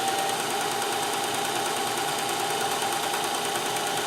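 A Singer sewing machine fitted with a Fagoter attachment running at full speed, a loud, steady mechanical whir and rapid clatter of moving metal parts that holds unbroken at close range throughout.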